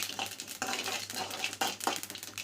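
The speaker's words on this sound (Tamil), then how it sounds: "கடுகு பொரிஞ்சிருச்சு." Mustard seeds and a pinched dried red chilli spluttering in hot oil in a pan, busy crackling and popping with scraping stirs, close and without talk.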